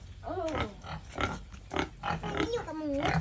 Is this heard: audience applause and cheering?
no